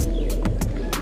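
Racing pigeons at an early-morning fancier race release in Jala-Jala, Rizal, cooing softly and fluttering close up in a short, dense burst over low background rumble.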